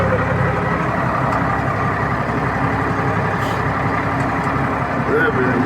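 A Solis RX50 tractor drags an Opel car backward out of forest mud, its diesel engine droning loud and steady throughout.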